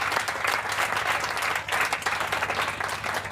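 A church congregation applauding the Lord during a Thursday evening sermon: dense, continuous clapping from a large crowd, loud and steady throughout, with a faint hum underneath.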